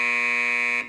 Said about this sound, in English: The buzzer takes us to Kitty.